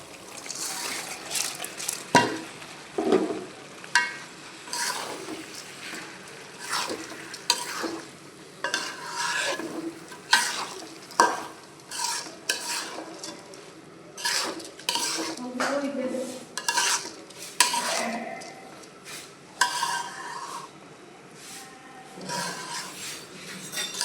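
A spoon stirs rice, lentils and browned chicken together in a pot for khichuri, repeated scraping and clinking strokes against the metal with a soft sizzle beneath, close and uneven in rhythm, no voices.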